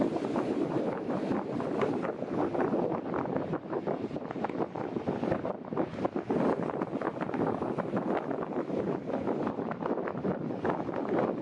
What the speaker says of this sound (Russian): Ветер сейчас где-то 12 метров в секунду